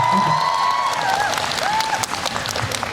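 Steady, dense applause from an outdoor festival closing-ceremony audience fills the whole stretch, with faint sustained tones and a few voices underneath.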